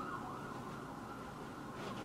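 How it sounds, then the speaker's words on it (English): A distant siren wails steadily outside, muffled and faint, holding a sustained tone for a couple of seconds. "Oh no, the sirens are coming."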